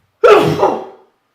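A single loud, close sneeze bursts out sharply and trails off within about a second, with nothing else around it.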